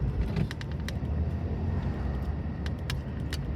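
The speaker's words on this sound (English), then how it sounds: "there's still a lot of cars about up here as well" Evening road traffic during a drive around Blackpool: a steady low rumble of cars moving along the road, with faint passing hisses and occasional light clicks, no voices.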